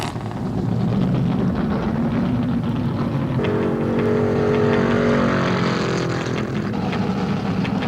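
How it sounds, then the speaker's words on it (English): Stock race cars at the 1972 Motor State 400 roar steadily as they pour into the pits under caution, engines droning loud and close with shifting pitch as several pass by. "Now watch the cars pour into the pits."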